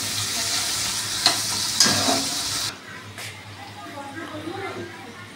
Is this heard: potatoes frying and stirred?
yes